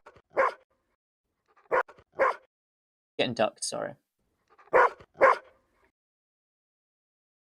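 Several short dog barks from recorded samples, in pairs with gaps between, fairly close and clear, with a brief burst of talk in the middle.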